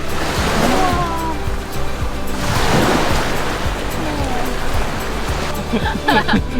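Sea waves rolling onto the beach at Cha-am, a continuous loud wash of surf with swelling breakers rising and falling, heard close with wind noise and faint voices mixed in.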